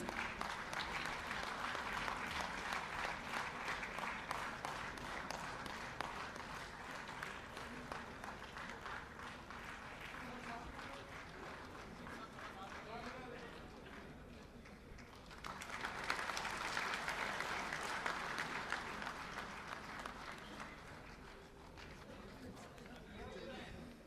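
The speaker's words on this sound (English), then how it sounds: "A loud round of applause, please." A large crowd applauds continuously at a felicitation ceremony, steady clapping with some chatter mixed in, swelling louder again partway through.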